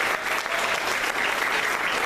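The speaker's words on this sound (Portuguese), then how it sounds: "Então aplauda o Senhor e glorifique o nome do Senhor." A church congregation during a family worship and communion service claps in a dense, steady burst of applause, loud and even throughout.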